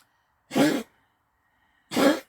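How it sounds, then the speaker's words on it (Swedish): A man gives two separate harsh coughs about a second and a half apart, close and loud with silence between them. "Det är inte så att han hostar för att han vill"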